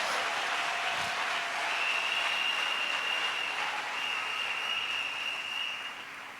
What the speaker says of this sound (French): Oui, ça mérite des acclamations.